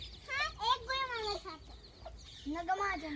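A hen at a village home clucks in a series of quick, rising calls, fairly close but quiet overall.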